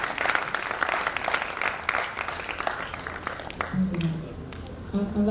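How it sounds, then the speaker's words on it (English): Audience at the COSPRA Summit 2023 giving a round of applause, busy clapping that tapers off toward the end as a voice starts speaking over it. "Let's give them another round of applause"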